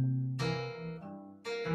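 Fingerpicked guitar in swung eighth notes: a few plucked notes with a long-short lilt, close and ringing, alone.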